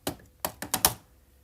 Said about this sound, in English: Just grab your cutters, snip off a little bit of that wire there